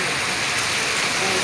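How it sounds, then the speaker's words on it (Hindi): A heavy downpour of monsoon rain falls on a lawn outside at night, a dense, loud, even roar of water with no breaks. Speech may be faintly mixed beneath it. "अब लोग इस बारिश को एंजॉय कर रहे हैं"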